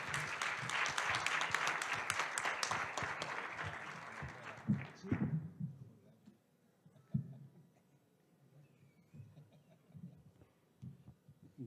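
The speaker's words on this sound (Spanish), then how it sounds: "Recibámoslos con un muy fuerte aplauso," Audience applause at a petrochemical industry expert panel event fills the first five seconds with dense broadband clapping, then fades into quiet room noise with faint murmurs and thumps.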